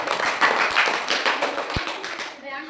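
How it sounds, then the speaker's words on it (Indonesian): Scattered clapping from a grade 4 classroom during an Islamic studies lesson, applauding a student group; brisk, uneven claps and taps stay fairly close, with a single low thump near the end. "beri tepuk tangan untuk kelompok auditori"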